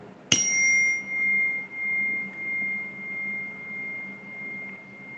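A metal chime is struck loudly once with a sharp attack, then rings on as a long, steady, bright tone that lingers for several seconds with gentle pulsing.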